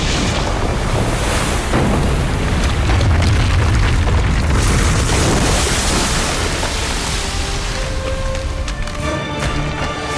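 A movie landslide buries the remaining snakes under water: a loud, unbroken low roar and rumble, mixed with surging, wave-like wash, holding steady for about ten seconds without any talk.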